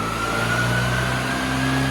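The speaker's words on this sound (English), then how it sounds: "we start to run the engine and start to get a picture of how the engine's running" A car engine fitted with twin HS2 carburettors runs on a rolling road, holding a steady, loud revving drone throughout the short stretch.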